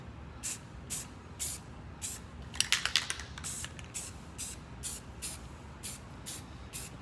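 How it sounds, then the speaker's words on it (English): Short bursts of aerosol spray paint, repeated at a steady rhythm, with a quicker cluster of sprays in the middle, close and fairly loud. "that's where this spray paint comes in"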